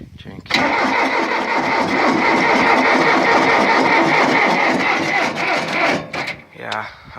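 A John Deere 2640 tractor's engine cranks on a cold start with a loud, rhythmic, labored churning from the starter that never catches, close up, then stops with a few clicks. A voice speaks over it.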